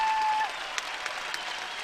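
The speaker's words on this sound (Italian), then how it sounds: "questo applauso umano che hanno fatto a Cristian" A crowd applauds at the Sartiglia festival in Sardinia, steady clapping heard at moderate distance after a brief whistle-like tone fades out.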